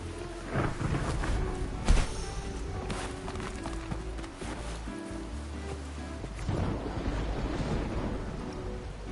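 Steady rain pours across a video game scene in Wuthering Waves, a dense wash of noise that carries on throughout, with a louder rumble near the start.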